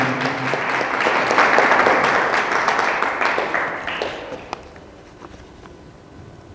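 A large indoor audience applauds a New Year 2024 greeting, loud dense clapping that holds steady for several seconds and then thins and fades out.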